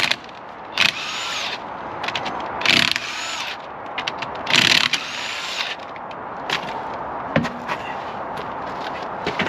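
A power tool cuts at the wheel of a crashed, badly damaged Vauxhall Cavalier CD: several short bursts of high whining and grinding, separated by pauses and lighter mechanical clatter.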